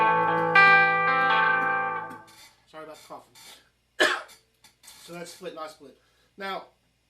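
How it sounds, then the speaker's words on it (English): A person coughs and clears their throat several times in short, irregular bursts close up, right after a distorted electric guitar chord fades out. "Sorry about the coughing."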